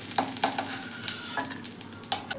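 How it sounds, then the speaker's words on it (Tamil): Green chillies fry in hot oil for a coriander seed chutney, giving a steady, close sizzle broken by several sharp scraping strokes of a spoon against the pan. "பச்சை மிளகா நல்லா ஃப்ரை பண்ணிக்கணும்"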